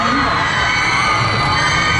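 A dense crowd of fans at a fan event screams and shrieks continuously, loud and close, without a break across the whole stretch.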